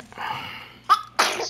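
One person sneezes close by, with a soft intake building up before two sharp bursts.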